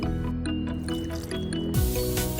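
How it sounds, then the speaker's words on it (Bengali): One cup of liquid milk is poured into a blender jar for an apple banana smoothie, a soft, steady liquid fill running under background music. "জারে ঢেলে দিলাম তরল দুধ।"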